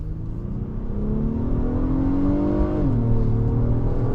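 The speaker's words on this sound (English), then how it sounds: "Smooth acceleration from the great 10-speed automatic transmission that's in this vehicle" A 2025 Acura MDX A-Spec with a 10-speed automatic accelerates smoothly, its engine drone rising steadily, dipping briefly at an upshift and then climbing again, heard from inside the cabin with no talking.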